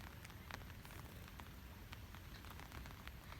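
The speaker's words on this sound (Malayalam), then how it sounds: "അടിപൊളി മഴയും നല്ലോണം വെള്ളം കയറിയിട്ടുണ്ട്" Heavy rain falls steadily over a flooded paddy field, a dense, constant hiss of drops with no pauses and no voices.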